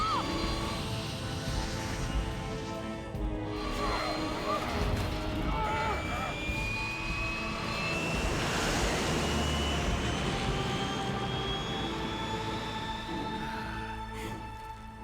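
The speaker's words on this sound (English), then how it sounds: "you'd be trying to pull this plane into some kind of" Aircraft flying in Metal Gear Solid 3, a steady engine drone that swells toward the middle and holds for the whole stretch, with voices talking over it at times.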